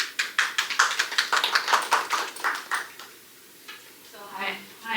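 An audience at a panel talk on queerness and the South China Sea gives a short, bright round of clapping lasting about three seconds. It stops, and a faint voice begins speaking over a quiet room.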